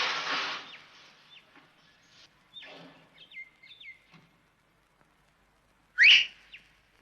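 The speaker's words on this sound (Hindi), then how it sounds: "कोई साला सीटी बजाएगा।" Several short, shrill whistle blasts ring out against quiet, with a few brief chirpy toots in the middle and a loud, sharp final blast near the end.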